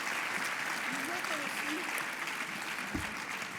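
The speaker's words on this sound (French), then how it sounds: "une bonne main d'applaudissements pour les nominés," Applause for nominees at a sports tribute gala, a soft, distant wash of clapping from the hall, with a brief voice-like murmur faintly underneath.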